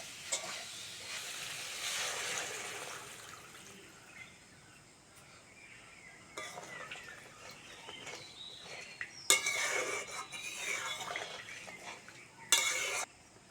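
Water poured into a pot of sizzling fried spices in a village kitchen: a steady fry hiss gives way to quieter bubbling, with a few bright metallic clinks of utensils against the pot toward the end.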